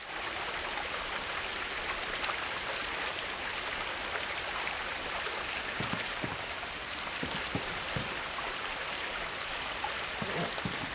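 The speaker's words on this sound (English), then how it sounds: "Sometimes you just need the sounds of flowing water." Steady broadband rush of flowing water from a stream or waterfall in the video game What Remains of Edith Finch, continuous and fairly loud throughout, with a few faint low knocks scattered underneath and no talking.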